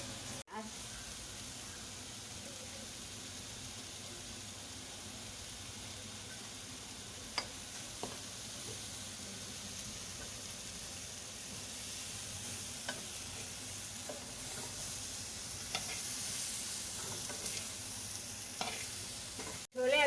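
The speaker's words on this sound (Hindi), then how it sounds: "छोले अभी हल्की आंच पर पक रहे हैं।" White chickpeas simmer on a low flame, a steady soft bubbling and sizzling that runs unbroken with faint stirring scrapes and occasional clicks.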